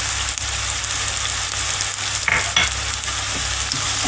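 Okra frying with salt, chili and turmeric in a hot pan, a steady dense sizzle with a few brief scraping stirs partway through, close and continuous, no voices.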